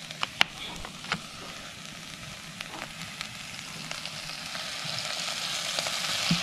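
Grasshoppers frying in cooking oil give a steady close sizzle and crackle, with a few sharp pops early on and the hiss growing louder toward the end, with no talk.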